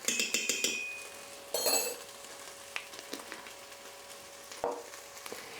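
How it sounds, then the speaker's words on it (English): Garlic and spices frying in a pan for a vegan lentil chili produce a soft, close sizzle. Light clinks and scrapes of a utensil against the pan are scattered over it. "And let that fry for up to a minute. You don't want to fry any longer, just until the garlic becomes fragrant."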